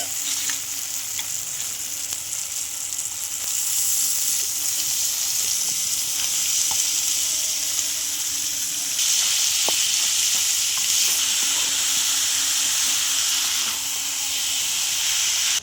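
Banana flower frying in spiced oil gives a steady, loud sizzle with a bright hiss throughout, growing a touch stronger partway as the pan keeps crackling, with faint stirring ticks underneath.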